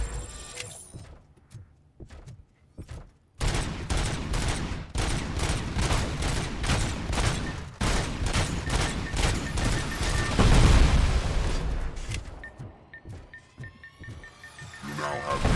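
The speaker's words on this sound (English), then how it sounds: "now he's using the rockets" Shooter game RoboCop: Rogue City, an enemy firing rockets: a dense run of heavy blasts and rapid shots, a big boom near the end, fairly loud, with a voice talking briefly.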